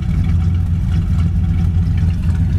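A 1967 Chevy Chevelle SS convertible idles through dual exhaust, with a loud, steady, close low rumble and an even lumpy pulse that does not change.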